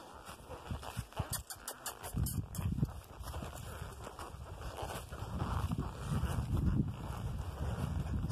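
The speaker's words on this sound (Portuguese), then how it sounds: "Essa que é a sensação de andar no cavalo" Horse ridden along a rural track, its hooves clip-clopping in a steady walking rhythm, close and moderately loud under wind buffeting the microphone and some background noise.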